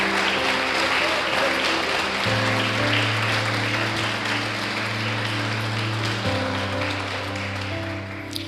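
Congregation at a church service applauding steadily and fairly close, with sustained organ or keyboard chords sounding beneath the clapping throughout.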